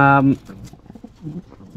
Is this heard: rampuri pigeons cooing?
yes